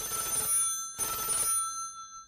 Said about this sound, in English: At that moment, the telephone rang again.